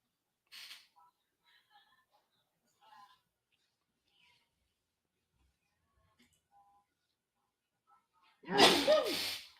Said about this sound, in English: I was waiting for that sneeze to pop up.